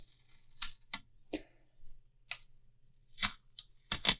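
Tape slit with a blade is peeled up off a fishing rod blank during custom rod building. It gives several short, crisp ripping bursts separated by quiet pauses, close and clear.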